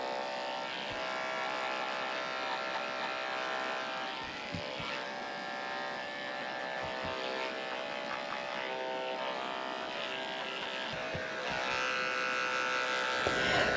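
Electric clippers buzz steadily and close up while shaving a Schnauzer dog's head during a full shavedown, a continuous high whine with small shifts in pitch and occasional light knocks as the blade moves over the fur.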